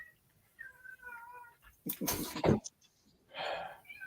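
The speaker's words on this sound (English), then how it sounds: "Kitty cats are at my door." Cats meowing at a door, a few short calls early on, then a louder burst and a later meow, close by in a quiet room.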